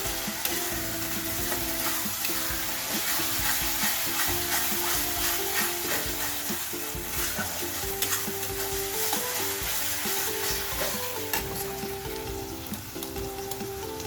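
Chicken kosha being stirred and fried in a pan after cashew paste is added, with a steady loud sizzle and continuous scraping of the spoon throughout, no voices.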